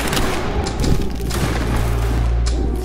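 A musket volley fired on command in a video game battle: a loud, dense roar of many shots and booms over about three seconds, with no talking.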